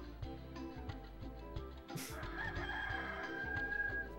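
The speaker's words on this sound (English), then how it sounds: "Rooster's happy." A rooster crows in the PS1 video game 102 Dalmatians: Puppies to the Rescue, one bright cock-a-doodle-doo rising over a steady, rhythmic game music loop, clear and fairly quiet.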